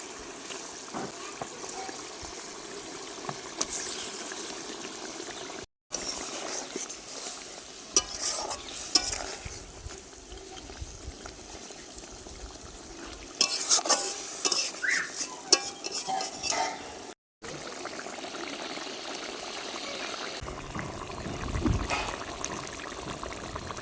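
Pieces of silver carp stirred and frying in a reddish curry with a little added water, giving a steady sizzle with scraping and clinking of utensils against the pan throughout, loud and close, with no talking.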